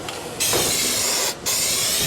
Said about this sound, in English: Just spray this stuff on.